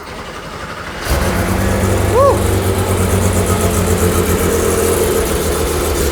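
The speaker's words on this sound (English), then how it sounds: "So, you hear that lumpy idle sound? That is done by design." A Porsche 911 engine fitted with a titanium exhaust starts up and settles into a loud, lumpy, uneven idle that runs steadily close to the microphone, with one brief voiced exclamation heard over it.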